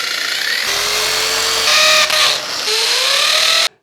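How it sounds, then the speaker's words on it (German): A loud power drill whines near at hand, drilling into a wall, its pitch climbing and dropping as it bites in through several bursts, then cuts off abruptly. "Und deswegen will ich das eben mal an die Wand bohren."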